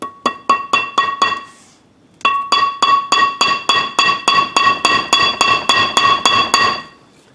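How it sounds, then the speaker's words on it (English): Rapid, evenly spaced metallic hammer strikes ring out close by as dowel pins are driven into a car's flywheel, a short run of blows, a brief pause, then a longer steady series. "I'm just going to hammer these in."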